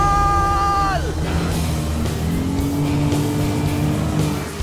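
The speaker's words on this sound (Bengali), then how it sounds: "ওরা তো জলের মধ্যে ড্রিফট করছে" Cars drifting through water make a loud tire squeal that drops sharply in pitch, then give way to a steady, roaring engine drone close by.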